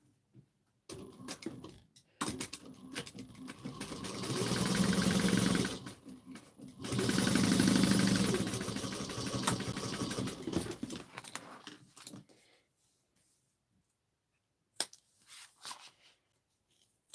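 A sewing machine stitches a bag in two long bursts with a short pause between, then stops; quiet handling noises and brief clicks follow near the end.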